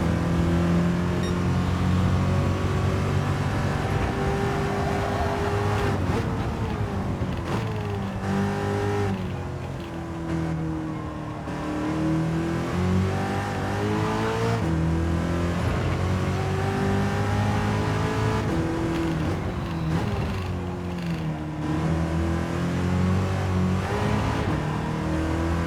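Race car engine in Gran Turismo 7 at Le Mans, loud and continuous, revving high with rising pitch sweeps and dips at gear changes and braking throughout a hot lap, with no talking.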